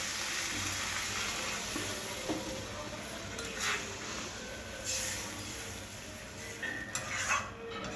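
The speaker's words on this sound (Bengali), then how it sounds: "মশলাটা কষা হয়ে গেছে, জল দিয়ে দিচ্ছি।" Water poured into a pan of sautéed spice paste for a tangra fish curry: a continuous hiss and sizzle with occasional clinks of utensils against the pan, close and steady throughout.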